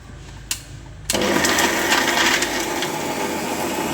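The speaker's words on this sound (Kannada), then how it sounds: "ಇವಾಗ ಇದನ್ನೇನು ಮಾಡೋಣ ಅಂದರೆ ಗ್ರೈಂಡ್ ಮಾಡ್ಕೊಳ್ಳೋಣ" A mixer grinder grinds a dry curry leaf and coconut chutney powder: a click, then a loud, coarse whirring and rattling roar that starts suddenly and runs steadily close by, with no talking.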